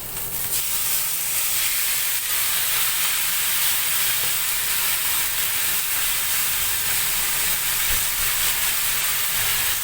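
Marinated pork for igado, dressed with calamansi, soy sauce and oyster sauce, hissing and sizzling steadily in a hot pan, a loud continuous fry with no voices.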